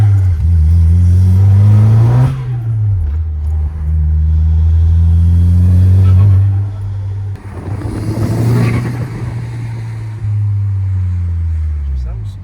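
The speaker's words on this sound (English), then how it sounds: "we're just going to see how she sounds while she drives" VW Caddy GTI fitted with a RAMAIR intake drives past, its engine droning and rising in pitch through gear changes with loud induction noise and occasional whooshes, close and steady.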